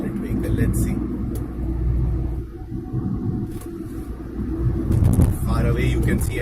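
Car cruising on the Mumbai-Nashik highway during the monsoon, with a steady low engine and road rumble and tyre noise on wet tarmac, continuous and fairly loud throughout, with brief swells from passing traffic.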